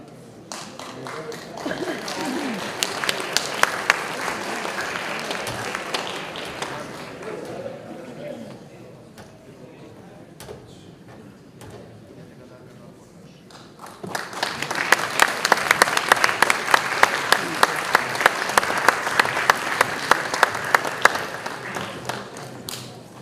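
Audience applause at a concert band competition as a youth band from Honduras takes the stage, a dense crowd of clapping that eases in the middle and then swells again, loud and sustained, with an announcer talking over it.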